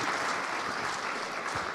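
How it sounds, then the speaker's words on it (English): Audience applause at the Co-op Congress 2024 conference, a steady wash of many hands clapping close by that fills the whole moment without pause. "Can we hear a round of applause"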